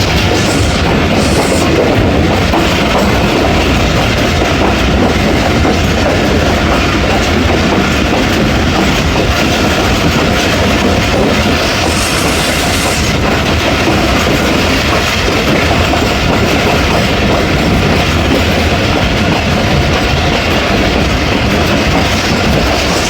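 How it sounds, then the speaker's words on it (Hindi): Rehman Baba Express passenger train running on rails near Sanjani station between Attock and Rawalpindi, a loud, steady rumble with continuous rhythmic wheel clatter throughout, heard from on board. "संजानी से पास शुरू हो रही है ट्रेन हमारी।"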